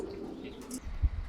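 Pigeons in a loft give a few low, soft coos near the end, close by, with faint rustling and chirps in the background.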